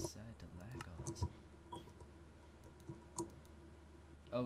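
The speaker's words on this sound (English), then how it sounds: "is that the sound of your keyboard that I'm hearing?" Computer keyboard clicking over a game voice chat, sparse, faint key taps scattered irregularly against a quiet, low background hum.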